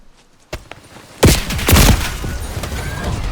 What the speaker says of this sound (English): Thermal grenade thrown.